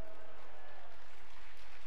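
A congregation applauds to welcome a pastor at a revival meeting at the Osanri prayer house in Korea, a short, fairly quiet burst of dense clapping with no voices.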